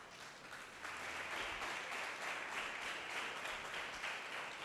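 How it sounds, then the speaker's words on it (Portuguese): A church congregation applauds for Jesus during a sermon, a faint, distant wash of many hands clapping that builds after the first second and carries on steadily. "dá um aplauso a Jesus"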